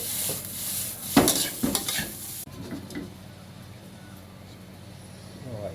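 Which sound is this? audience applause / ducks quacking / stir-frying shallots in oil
stir-frying shallots in oil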